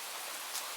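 Steady rain falling on surfaces outside a house, a constant soft hiss of drops without breaks, fairly quiet and alone with no voices.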